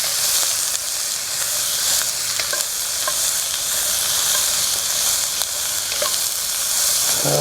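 Jambalaya with chicken and tasso sizzles loudly in a hot pan over a high flame, a dense continuous frying hiss broken by occasional scraping stirs, with no talking.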